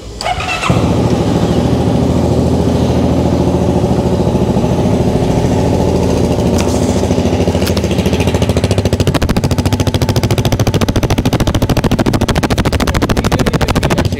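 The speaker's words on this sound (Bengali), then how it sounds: "এ হচ্ছে বাইকটির সাউন্ড" A CFMoto cruiser motorcycle engine starts and runs loud and close, a throbbing, rapid rumble holding steady throughout with no talking.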